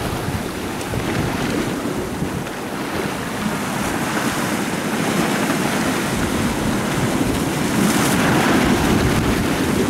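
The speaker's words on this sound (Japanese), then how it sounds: "風は左から右に結構強めに吹いてます" Strong wind buffets the microphone beside the sea while fishing for grey rockfish, a continuous loud roar over the rush of waves, with no voices.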